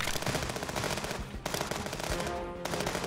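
Rapid automatic gunfire rattles in the video game Contraband Police, dense bursts of shots in quick succession with brief gaps, loud and close throughout.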